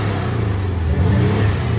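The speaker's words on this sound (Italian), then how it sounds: "in sport, il rombo si mette automaticamente la marmitta sportiva" A Porsche 718 Cayman GTS engine with sport exhaust drones loudly from inside the car, a steady low rumble that swells slightly partway through.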